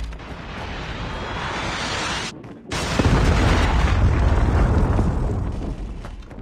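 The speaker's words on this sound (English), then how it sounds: "Hostile Predator missile inbound." A Predator missile strikes in Call of Duty Mobile multiplayer: a brief drop to near silence, then a loud, sustained low rumbling blast that rolls on for several seconds over continuing battle noise.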